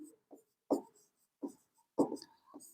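Chalk or marker strokes on a board during a physics lesson on electric flux and Gauss's law: a handful of faint, brief scratchy marks spaced out across a quiet room.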